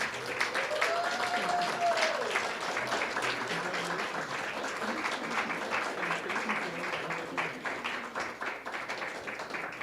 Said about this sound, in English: let's give all of these fantastic souls another round of applause for their amazing work